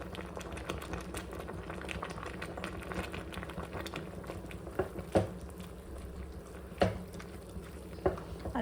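Khichuri with spinach simmers in a pot with a steady bubbling boil, broken by a few louder pops and splutters, close up with no talking.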